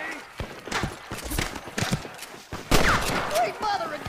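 Gunfire in Red Dead Redemption: a run of sharp shots spread through the clip, louder near the end, mixed with hoofbeat-like clatter and game ambience; a voice is faintly present.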